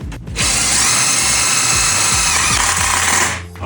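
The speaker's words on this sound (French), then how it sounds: "Donc je visse les montants et la suspente ensemble." A power screwdriver drives screws through metal studs into a PM35 suspension hanger, a loud, close, steady high whine for about three seconds that starts and stops abruptly, with no talk.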